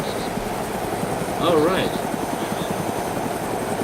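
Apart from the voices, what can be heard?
helicopter engine idling in video game ArmA 2 DayZ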